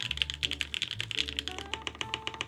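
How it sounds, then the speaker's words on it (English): Close-up typing on an Amano R2 mechanical keyboard fitted with Gateron Black Inks V2 switches and a 7U spacebar, a quick run of crisp, clacky keystrokes with a deeper thock from the spacebar, alone and fairly quiet. "This sounds like a typewriter."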